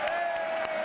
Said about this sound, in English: Nothing like spontaneous applause